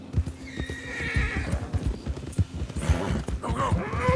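Horse in Red Dead Redemption 2 galloping with rapid, close hoofbeats while letting out a loud whinny, a rider's urging voice mixed in over the rhythmic clip-clop.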